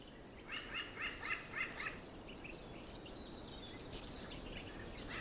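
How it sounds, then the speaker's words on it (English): A group of crows feeding outdoors, with a quick run of bird calls early on and scattered faint chirps over steady background noise. "a whole group of crows have come here to feed"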